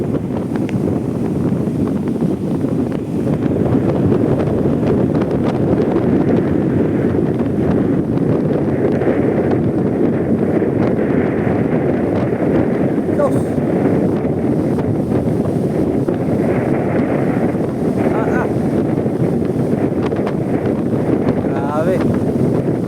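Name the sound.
strong wind and big waves at sea from a boat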